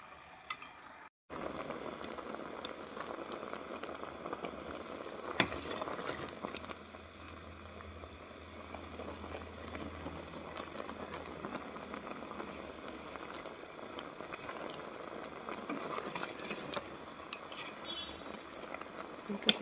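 Gooseberries simmering in jaggery syrup on a village stove give a steady, dense bubbling and popping that runs throughout at moderate level, with a brief drop near the start.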